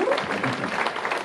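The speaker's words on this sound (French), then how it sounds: "Aurélie, sous vos applaudissements s'il vous plaît." Audience applause at the outdoor inauguration of the 23rd Nocturnes Estivales summer festival in Arnay-le-Duc, as a postwoman is called onto the stage; a dense, steady clapping wash fills the whole moment with a hint of voices underneath.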